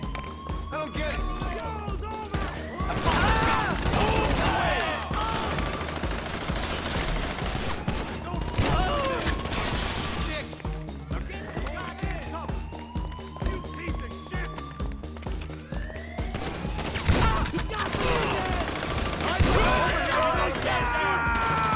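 Gunfire in the video game GTA Online during an aggressive casino heist: repeated bursts of shots and fusillades with ricochet-like whines, loud and dense, mixed with game sounds while people talk over it.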